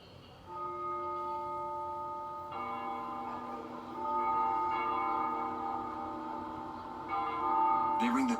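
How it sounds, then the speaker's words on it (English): Church bells ring at dusk in the Ace Combat Zero video game, sustained resonant tolls layered with swelling overtones, growing fuller as more bells join, moderately loud and steady with no talking. "They ring the bells here at dusk to honor the liberation of the capital."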